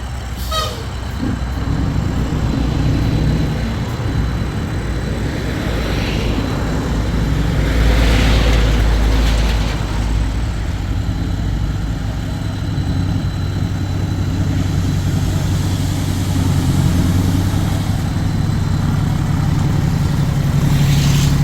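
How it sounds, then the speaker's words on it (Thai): A tractor levelling ground gives off a loud, continuous heavy diesel engine rumble with low droning tones that swell and ease slightly as it works, with no voices. "รถไถก็เกลี่ยกัน"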